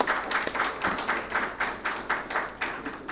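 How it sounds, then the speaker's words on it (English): Audience applause at a water sustainability award ceremony, a steady patter of clapping from a crowd in rhythmic waves lasting the whole few seconds, no voices over it. "Please give them a big round of applause."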